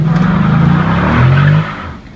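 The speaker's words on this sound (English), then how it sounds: "I know the car is gonna skid out a little" Chrysler 300 SRT Hellcat skidding on an empty road, tires squealing loudly for about a second and a half with engine roar beneath, then fading out abruptly.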